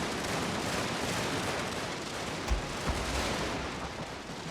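A Total War battle fills the air with a dense, continuous wash of distant gunfire and artillery, a steady roar with a couple of slightly sharper thuds rising out of it.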